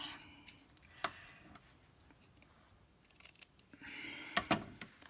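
Scissors snip through music sheet paper in a few short, crisp cuts, close and fairly quiet, separated by pauses with faint handling rustle between them.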